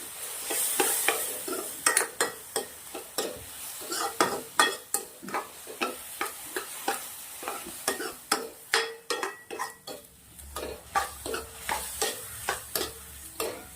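A spoon scrapes and stirs milk and sugar in a pan of vermicelli sheera, making rhythmic close scraping strokes roughly every half second over a faint sizzle, with no talking.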